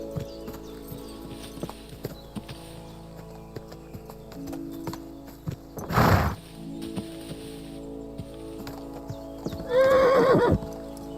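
A horse in the medieval game Kingdom Come: Deliverance II clip-clops along a path, and two loud neighs break through the steady hoofbeats, the first near the middle and the second near the end.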